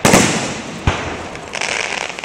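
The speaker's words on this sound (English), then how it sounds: "Then you won't hear the fireworks." Fourth of July fireworks burst in a broad crackling wash, one sharp loud bang near the middle followed by fizzing crackle, heard outdoors with no talking.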